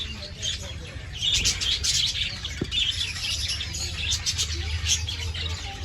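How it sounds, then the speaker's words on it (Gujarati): Small yellow sparrows chirp and tweet in quick bursts against a low outdoor rumble at Kankaria Lake, several calls overlapping at moderate distance. "જો આ પીળી પીળી ની એવી ચકલીઓ જો."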